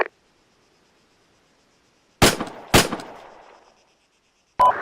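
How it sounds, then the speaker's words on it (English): Gunfire on a weapons training range aimed at the left target: two sharp, loud shots a fraction of a second apart with a trailing echo, then a third shot near the end, with silence between. "You're shooting at the left target there"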